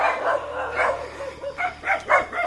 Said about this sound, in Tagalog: Tsaka may mga aso.